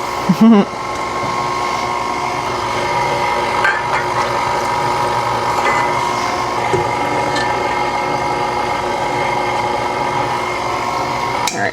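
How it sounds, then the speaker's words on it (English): An electric mixer whirs continuously up close, beating an apple batter with milk, a steady motor drone with a few clunks and scrapes against the bowl. "I'm going to scrape down the sides real quick before this finished mixing"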